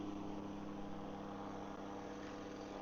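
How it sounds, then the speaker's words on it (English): A helicopter passes overhead outdoors on a day after rain and snow, giving a steady, distant rotor drone that holds level with no other sounds. "Some sort of helicopter."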